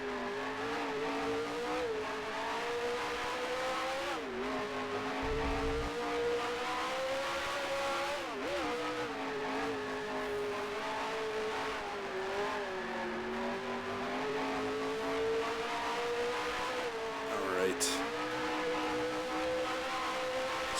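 Vintage race car engine in the Grand Prix Legends sim, a steady droning whine that rises and dips through gear changes and corners, continuous and close with no talking.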